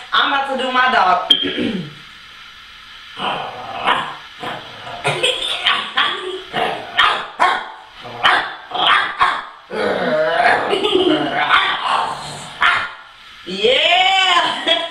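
A young person imitates a dog during an animal noises challenge, giving a string of vocal barks, yips and growls in short bursts, loud and close, with laughter and chatter between them.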